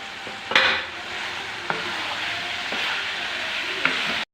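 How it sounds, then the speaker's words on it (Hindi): Capsicum goes into already browned chicken and potatoes for an aloo chicken shimla mirch curry, a loud bright sizzle that flares as it hits, then steady frying with a few spoon scrapes against the pot. "अब इसमें हम शिमला मिर्च डालेंगे। इसको अच्छी तरह भूनेंगे"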